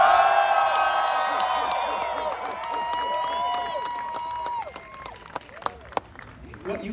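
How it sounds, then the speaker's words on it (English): A big, boisterous crowd at Tim Burton's Hollywood Walk of Fame ceremony cheers, whoops and whistles loudly, with a sustained roar that thins into scattered shouts and claps toward the end. "I hope those who are watching on live stream can see and sense this is a big, boisterous crowd"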